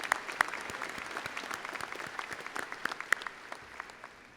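An audience gives a steady round of applause for the school counselors at a high school graduation ceremony, dense and fairly distant with scattered sharper claps.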